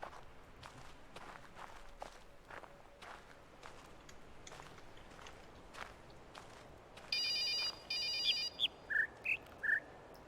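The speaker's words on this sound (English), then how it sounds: "You're going to confuse me with cell phone ringing as well?" A cell phone rings in the video game The Witness, a few short electronic ringtone bursts near the end, following a stretch of soft footsteps.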